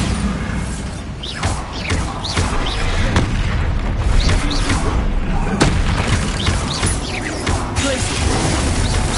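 Bombarda spell blasts in Hogwarts Legacy, dense booming and crashing impacts under a busy game soundscape with other spell effects throughout, loud and continuous.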